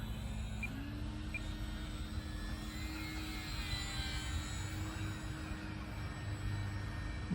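A radio-controlled Sport Cub S2 model airplane flies over a front yard on a windy evening, its small motor giving a steady, faint whine with a slight pitch shift over ongoing wind noise.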